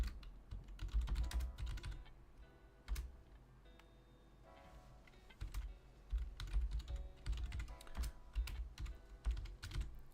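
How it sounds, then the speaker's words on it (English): Fast speed typing on a computer keyboard while lettering comic pages: dense bursts of quick, crisp key clicks close up, broken by short pauses, with no talking. "I'm speed typing just to see what fits"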